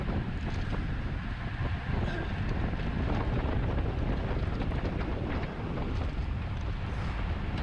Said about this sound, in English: the wind was really in your face